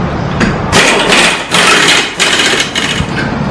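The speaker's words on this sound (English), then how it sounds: "We're gonna go ahead and tighten up our CV axle nut." CV axle nut being tightened on a wrecked 2017 Corvette Z06: loud, harsh, close mechanical rattling in three sustained bursts with short pauses between.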